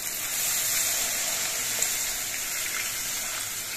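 Water is poured into a pan of fried spice paste, which sizzles: a dense, steady, hissing crackle holds close and fairly loud throughout, with no voices.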